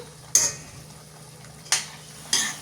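Spoon stirring sauces through beef in a bowl, three sharp scraping clinks spaced apart over a soft steady background hum, no voices.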